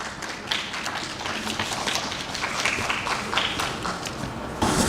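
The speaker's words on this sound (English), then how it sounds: "Please give him a huge round of applause" An audience at a mushroom summit session applauds a guest speaker, a steady, moderately loud patter of many hands clapping for several seconds, with a brief swell near the end.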